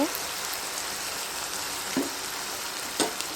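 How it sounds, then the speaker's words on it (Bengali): Okra curry bubbling and simmering in a pan on the stove, giving a steady close sizzle and bubbling hiss with a few sharper pops, no one talking. "বলক কিন্তু চলে আসছে এরই মধ্যে তো এভাবে কিছুক্ষণ রান্না করে নিব"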